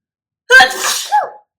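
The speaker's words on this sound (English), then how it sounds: "I'm gonna sneeze." A single sharp sneeze bursts out close by, followed by a brief trailing exhale, with silence before and after.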